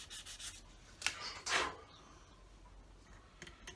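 Sandpaper rubbing along the trailing edge of a wing on a Vintage Model Company Fokker Dr1 model, heard as a few soft, brief scuffing strokes close by, with the loudest near the middle and quiet pauses between them.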